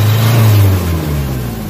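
A Nissan Vanette engine revs loudly up close after an XADO treatment for throttle delay and low power. It gives a deep, steady drone that swells and then eases slightly, with no voices over it.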